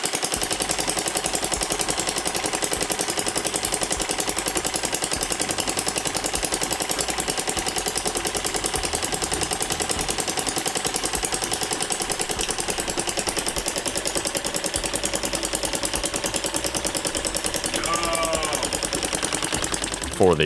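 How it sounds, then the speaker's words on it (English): A 3D-printed small gas engine running on petrol after fuel screw adjustment, a loud, steady rapid buzzing putter held close for the whole stretch with no talking. "this engine is actually running on gas"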